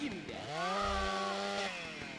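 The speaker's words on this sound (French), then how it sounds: "Tronçonneuse." A chainsaw revs in the video game GTA San Andreas, a single rising and falling whine heard close, loud and alone for about two seconds.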